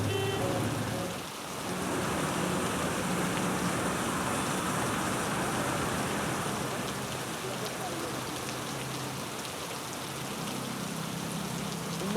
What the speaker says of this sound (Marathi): मागील 2 दिवसांपासून मुंबईत मुसळधार पाऊस सुरू आहे